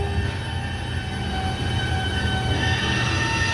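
A train rumbles steadily with a low, continuous roar and faint high whine, heard up close without any voices.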